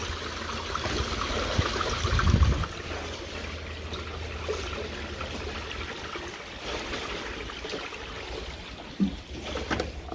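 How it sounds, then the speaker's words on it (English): Clean water washes through a homemade gold classifier holding outback pay dirt, a steady rushing trickle with brief splashes and clunks of material. "Blast it through, chuck some clean water through it."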